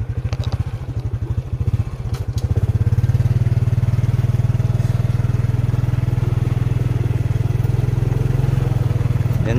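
A motorcycle rides along a rough, potholed dirt road, its engine loud and close. It chugs unevenly at first, then settles into a steady roar.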